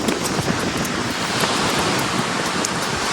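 Steady roar of wind mixed with the wash of sea waves at a beach, a continuous broadband rush with no pauses and no voices.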